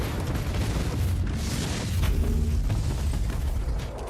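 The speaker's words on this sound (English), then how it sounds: "The explosion is nice." An explosion in the video game Warhammer 40K Inquisitor, a loud sustained rumbling blast with crackling bursts filling the whole stretch, dense and heavy with no voices over it.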